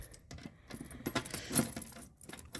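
A ring of keys jangles continuously up close as a fire alarm key is picked out, with irregular metallic clinks and rattles.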